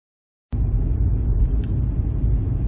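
Steady low road rumble and tyre noise inside a 2013 Seat Ibiza 1.4 Toca cruising on a motorway, starting abruptly after a brief silence and holding a constant level.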